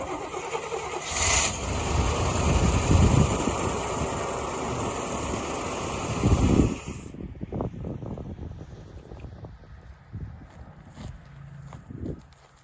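A 1989 GMC Suburban 4x4 engine, sitting unused for 18 years, runs loud and rough for about seven seconds, then cuts off, leaving faint clicks and ticking afterward.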